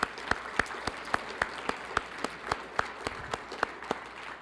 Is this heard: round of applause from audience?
yes